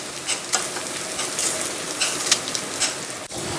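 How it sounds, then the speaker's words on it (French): Apple pieces frying in a hot pan, a steady close sizzle with crackling spurts and a few stirring scrapes, heard alone without talk. "La poêle est chaude, je mets les pommes à cuire."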